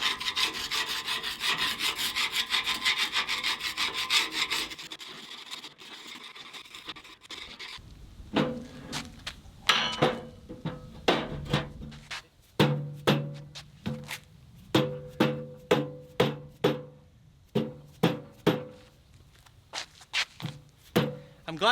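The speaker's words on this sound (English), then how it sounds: "I think I need to scrape the bottom of this bucket because I've got a lot of junk and buildup on there" Scraping junk and buildup off the bottom of a loader bucket: after a steady rasping rub, a series of sharp, rhythmic scrape-and-knock strokes repeat close by.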